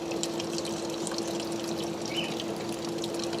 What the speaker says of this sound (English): As you see, the water's coming out without an electric pump.